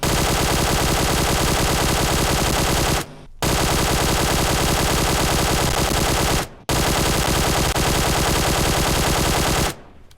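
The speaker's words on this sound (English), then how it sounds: "I'm just going to fire a full auto magazine." A QBZ assault rifle in PUBG Mobile, fitted with a vertical foregrip, fires long full-auto bursts, loud and continuous, broken by two short gaps before the magazine runs dry near the end.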